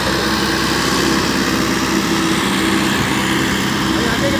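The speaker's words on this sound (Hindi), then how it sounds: "रोड पे चढ़ गया है और साउंड सुनिए आप, बहुत ही भयंकर साउंड है ट्रैक्टर का।" A Sonalika tractor engine runs on a road, a continuous, loud, rough drone with steady low rumble and no pauses, heard alone without talk.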